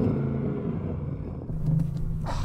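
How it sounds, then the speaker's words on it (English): A V8 engine of an Audi RS6 in sports mode rumbles at close range, with a deep steady idle that swells into a brief rev partway through. "I'm going to rev mine up."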